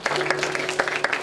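Church congregation giving a short burst of clapping after a prayer, a brief, dense patter of many hands at steady loudness, with a faint sustained tone humming underneath.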